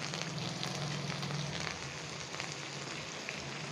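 Coriander leaves dropped into hot tempering oil for sambar sizzle and crackle in a pan, a soft, steady frying hiss close by with no talk.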